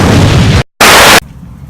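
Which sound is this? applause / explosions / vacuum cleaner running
explosions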